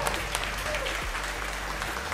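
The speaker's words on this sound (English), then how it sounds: "One more round of applause for Jamison Go and Silent X." Crowd applause for the winner of a 3lb robot combat event, a steady wash of clapping from a fairly distant audience with no break.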